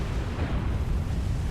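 Near-miss explosion of a 15-inch shell from HMS Hood's guns in the naval game War on the Sea, a steady, heavy low rumble filling the whole short moment without distinct separate blasts.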